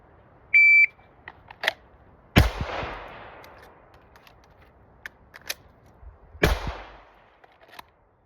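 A shot timer's electronic beep opens, then a handful of sharp pistol gunshots ring out at close range, spaced unevenly with long pauses between the loud cracks.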